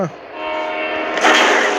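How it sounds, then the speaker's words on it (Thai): A train horn blares loudly from a train approaching in the shooter game Bullet Echo, a sustained blast that swells and brightens toward the end as the train closes in, alone without talk. "รถไฟมา"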